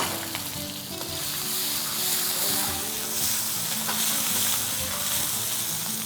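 Oil sizzles hard and steady in a hot pan with plenty of cooking oil as egg fried rice gets sautéed, a dense close crackle with some stirring clatter, a voice murmuring faintly underneath.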